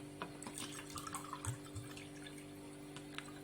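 Water poured by the cupful for a quick cold dessert, a soft splashing trickle with a few brief louder pours over a low steady background hum, no talking.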